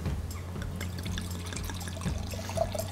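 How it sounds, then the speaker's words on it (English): Marsanne white wine pours into a glass with a soft, steady liquid trickle and a few small splashes, close and fairly quiet, running throughout without talk. "Let's pour it into the glass so you can see what I'm talking about."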